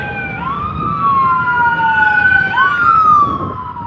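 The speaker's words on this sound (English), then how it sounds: "it's gonna get really loud because the ambulance is coming" An ambulance siren wails loudly close by, its pitch sweeping up and down over rumbling traffic noise.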